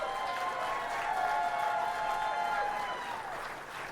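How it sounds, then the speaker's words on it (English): Audience applause at a Class D girls basketball state final, a steady wash of clapping from a large crowd heard at a moderate distance, fairly quiet and even throughout. "how about a nice round of applause for our 2 finalists?"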